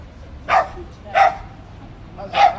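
Dog barking in three separate loud, sharp bursts spaced about a second apart, close by, over a faint background murmur.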